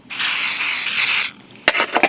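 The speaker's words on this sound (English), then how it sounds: "I'm going to spray it one more time" A sustained hiss of an aerosol spray can over a glittered claw clip for about a second, close and loud, followed by a few short clicks and taps.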